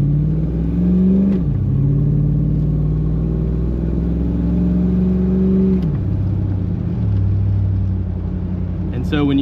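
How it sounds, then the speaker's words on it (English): V8 LS1-swapped Jeep Grand Wagoneer pulling away on a drive, the engine note climbing and dropping through several gear shifts, loud and close from inside the cabin, with road rumble underneath. "let's go for a little drive in the LS1 Grand Wagoneer"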